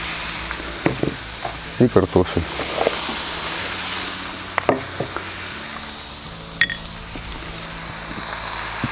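Cauliflower and potatoes go into duck already frying in a kazan, giving a soft steady sizzle with scattered clinks and stirring knocks, while a person talks over it.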